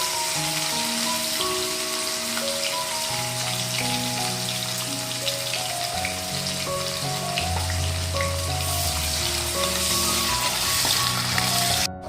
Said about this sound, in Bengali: এর মধ্যে দিয়ে দেব একটা মিডিয়াম সাইজের যে পেঁয়াজ কুচিয়ে রেখেছিলাম সেটা